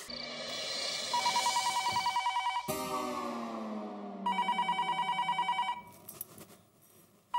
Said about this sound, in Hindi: इतनी रात गए किसका फोन आया हुआ?